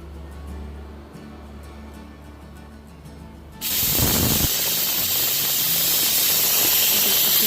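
A pressure cooker cooking black chana on a medium flame releases steam, with a faint rattling hum at first, then a sudden loud, sustained whistle-hiss that continues steadily to the end.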